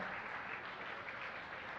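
An audience at an Ohio allies and advocates event claps in steady, continuous applause, faint and distant.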